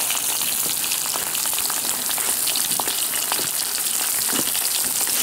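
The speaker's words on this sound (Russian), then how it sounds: "И мы сразу же сюда отправляем наше мясо." Meat frying with carrots in a large cauldron (kazan) in Siberia gives a loud, steady, close sizzle with crackling pops, uninterrupted and without talk.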